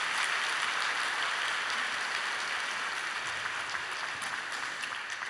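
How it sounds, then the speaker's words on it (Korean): A church congregation claps after a musical performance, a fairly soft, dense patter of applause that fades gently, with no voices over it. "우리 다시 한번 박수로 축복해 주시기 바랍니다"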